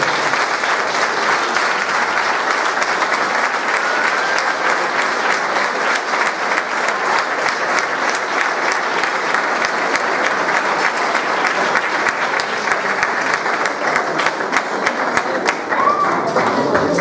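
Loud, sustained audience applause at a diploma ceremony honouring collaborators of a music association, with dense clapping continuing without pause throughout.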